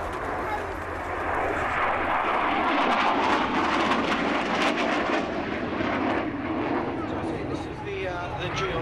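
Royal Air Force Harrier GR7A jet with an upgraded, more powerful engine, performing at the RIAT 2006 airshow; a loud, sustained broadband roar fills the whole clip, with a commentator talking over it.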